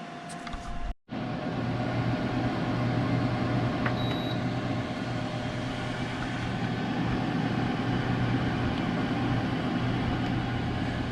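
An Emeril Power Air Fryer 360 cooking French fries at around 350 degrees gives off a steady, even whirring hum of its fan and heater. After a brief click near the start it holds constant with no talk.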